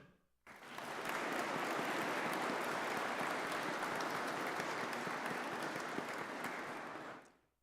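An audience at a class ring presentation ceremony claps together in steady, even applause that holds for several seconds before tapering off, heard from a distance.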